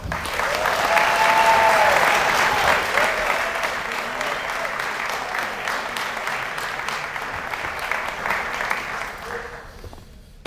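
An audience at a University of San Diego athletics event claps steadily in warm, sustained applause for a new athletic director, holding strong for several seconds before tapering off near the end.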